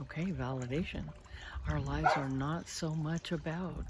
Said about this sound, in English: that's my neighbor's dog